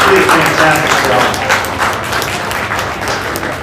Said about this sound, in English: Let's give all the kids in the ring a big round of applause.